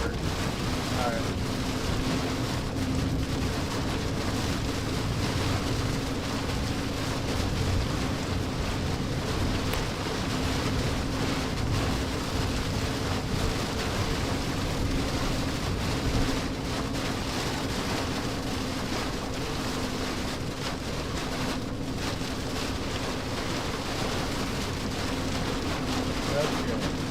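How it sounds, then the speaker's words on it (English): Gusty wind during a severe storm in western Michigan buffets outdoors, a steady broadband roar with wind noise hitting the microphone throughout, constant and fairly loud with no clear lulls. "Just gusty wind"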